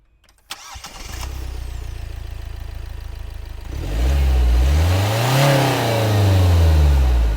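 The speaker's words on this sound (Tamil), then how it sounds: "இன்ஜினியர் ஸ்டார்ட் பண்ணி காமிச்சிட்றேன்" A Kia diesel car engine cranks and catches, settles into a steady idle, then revs up in several rising and falling swells, loud and close with no talking.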